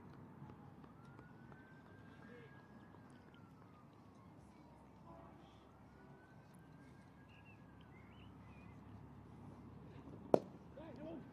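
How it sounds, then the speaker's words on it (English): Distant city sirens wail faintly over a low, steady city rumble with a train passing, heard at a cricket match, with one sharp click near the end. "The sounds of the city around us now. Train going past, sirens."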